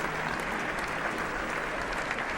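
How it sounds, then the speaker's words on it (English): Audience on a talk show gives a sustained round of applause, dense clapping at steady moderate loudness filling the whole short stretch without talk. "Let's give a big round of applause for Dawn."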